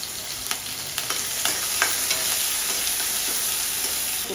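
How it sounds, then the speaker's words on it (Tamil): Mustard seeds crackle and pop in hot oil while making rasam, sharp intermittent spits over a steady sizzle, close and fairly quiet. "கடுகு பொரிஞ்சிடுதுங்க"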